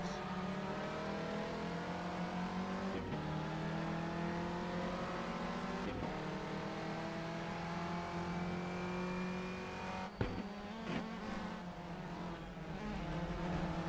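Renault Clio race cars lapping Rockingham in the rFactor 2 racing game, a loud continuous engine drone with rising pitch and sharp gear-change breaks every few seconds, heavier chatter near the end.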